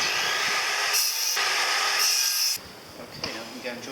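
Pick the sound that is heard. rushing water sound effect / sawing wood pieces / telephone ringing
sawing wood pieces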